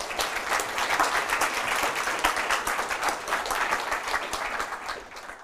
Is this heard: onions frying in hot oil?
no